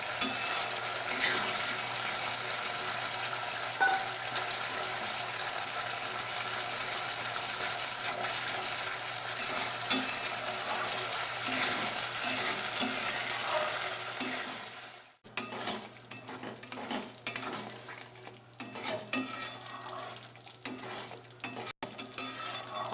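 A spice masala for malai kofta curry, loosened with a splash of water, frying and being stirred in a pan: a steady bubbling sizzle, then a stretch of irregular scraping and clinking stirs, close and without talk.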